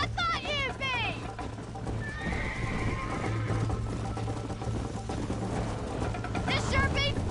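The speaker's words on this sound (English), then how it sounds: "I think you chose the wrong horse, Miss McFarland." Horses gallop and neigh during a race in a Western-style video game, with whinnies at the start and end over steady hoofbeats and a continuous low hum, with voices in the mix.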